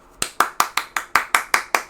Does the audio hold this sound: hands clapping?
yes